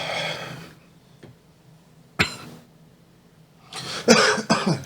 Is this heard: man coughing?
yes